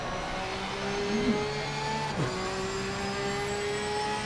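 GT race cars lapping in Assetto Corsa Competizione, a steady engine drone with tones sliding down as cars pass, moderately loud and without talk.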